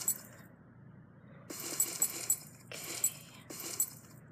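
Treasure chests opening in the Minecraft Mineplex server, heard as a short series of bright, clinking metallic chimes in several bursts, with no talk over them.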